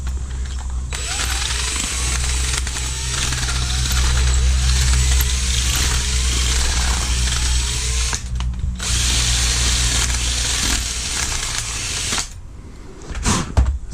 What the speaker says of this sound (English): Okay, a little more with the drill bit.